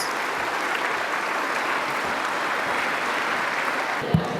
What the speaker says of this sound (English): Let's give our wonderful speaker another round of applause